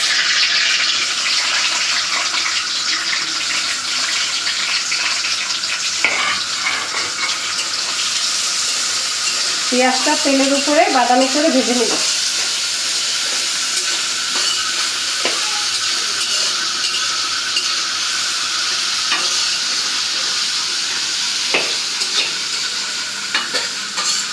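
Whole spices, including black pepper, fry in hot oil in a village kitchen pan, giving a steady, close sizzle throughout with occasional stirring scrapes and a brief higher squeak midway.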